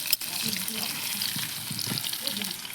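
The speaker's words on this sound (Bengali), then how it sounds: "এবার একটু হালকা ভাজা ভাজা করে নেব।" Potato pieces frying in hot oil in a wok, a steady soft sizzle with occasional stirring scrapes, fairly quiet and close, with no talk over it.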